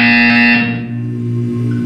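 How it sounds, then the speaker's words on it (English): A Portal 2 test chamber buzzer sounds once as a loud, harsh electronic tone, cut off after about half a second, with a lower hum lingering afterward. "You will hear a buzzer."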